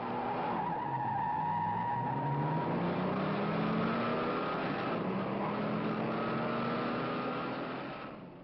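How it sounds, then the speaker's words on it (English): Two cars racing, one with a 396 cubic inch turbojet V8 against a Ford 390 cubic inch Thunderbird engine, with loud sustained tire squeal and skidding over a revving engine tone that rises and falls, fading at the end. "Look at the way the 396 moves out to an early lead and holds it right through the run."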